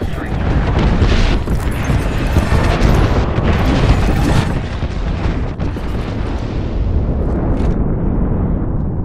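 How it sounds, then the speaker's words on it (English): Airstrike bombardment in Apex Legends: continuous heavy rumbling blasts and booms rolling on without pause, loud and dense throughout. "Calling the airstrike."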